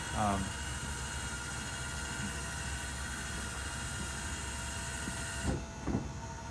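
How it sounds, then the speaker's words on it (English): Electric motor driving the stabilizer jacks on a 2023 Stealth Nomad 30QB camper trailer, a steady mechanical whine and hum that runs throughout, with a couple of brief clunks near the end. "And you can hear the motor still going."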